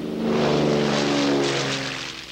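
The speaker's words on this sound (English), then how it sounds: "There are water bombers from every part of the province and helicopters with water buckets." Water bomber aircraft flying over a forest fire give a steady propeller drone that swells and then slowly fades over a couple of seconds, with no voices.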